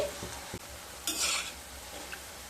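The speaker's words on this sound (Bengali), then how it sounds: "পকোড়াগুলো একটা সাইড ভাজা হয়ে গেছে এবার উল্টে দেব" Pakoras made from pui (Malabar spinach) leaves fry in hot oil in a pan. A steady sizzle runs throughout, with a louder, brighter hiss swelling for about half a second as they are turned, and a soft stirring scrape.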